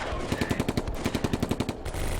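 A machine gun in the WWII strategy game Combat Mission fires a rapid, continuous burst of about two seconds, with evenly spaced shots that are loud and dense. No voices are heard.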